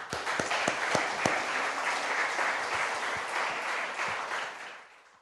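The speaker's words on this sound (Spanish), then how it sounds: "Le damos un aplauso a Dios." A church congregation claps steadily and fairly loudly for about five seconds, with a few sharper individual claps standing out before it fades.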